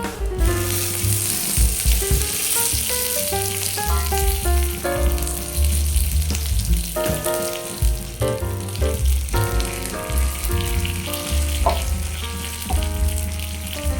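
Mustard seeds and curry leaves sizzle and crackle steadily in hot oil for an Indian-style purple cabbage dish, loud and close, with music playing alongside throughout.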